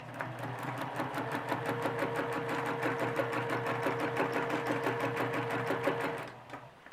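A sewing machine stitches a feather-quilting stem, a steady rapid needle chatter with a sustained motor hum running about six seconds, then stopping.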